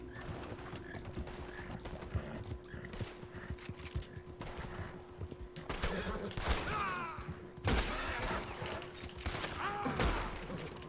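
Gunfire while a wagon is driven in the Red Dead Redemption 2 video game: scattered shots ring out over continuous horse hooves and wagon rumble, with brief voices.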